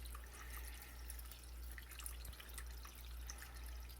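Water pours and splashes over chicken leg quarters in a container, a faint, continuous trickle with scattered drips over a low background hum.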